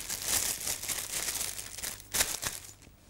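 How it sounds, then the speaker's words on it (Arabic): A plastic nylon bag is handled in a kitchen while steak is being prepared, giving close, irregular crinkling and rustling bursts, with one louder crackle near the end. "فيني أجيب كيس نايلون"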